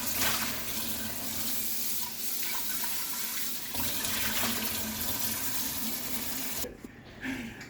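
Pasta is rinsed under a running kitchen tap, a steady hiss of flowing water splashing into the sink. It holds for several seconds, then cuts off abruptly near the end with a few brief drips and clatters.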